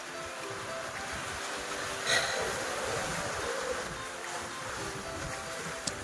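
Sea waves wash against coastal breakwater blocks on a beach between Trivandrum and Kollam near Varkala, a steady soft roar of surf with one slightly louder surge, heard alone without talk.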